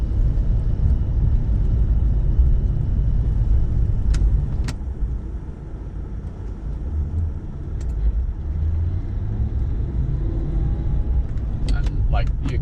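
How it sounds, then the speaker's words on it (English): Maserati Quattroporte V (QP5) converted to a manual gearbox, engine idling in gear with no throttle at about 1,000 RPM, a steady low rumble with faint clicks, heard up close from inside the car. "engine's able to run without touching the"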